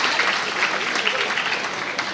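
Audience applause at a Dasara religious gathering in Bajagoli: a steady, dense clapping from a crowd that continues evenly throughout, with a speaker's voice over it.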